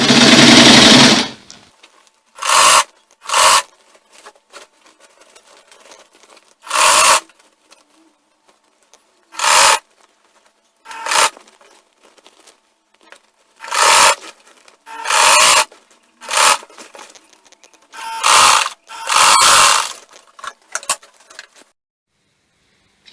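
A sewing machine stitches a full-flare peplum in loud, close bursts of rapid mechanical chatter, about a dozen runs of varying length separated by near-silent pauses, with no speech.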